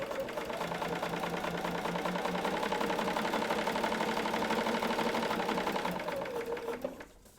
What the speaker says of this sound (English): bring it back to the sewing machine, and I'm sewing on line 2